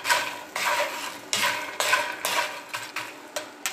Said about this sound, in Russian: И хорошо перемешиваем